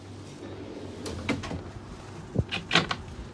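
A drawer on a boat slides and bumps shut a couple of times, soft wooden knocks close by in a quiet cabin.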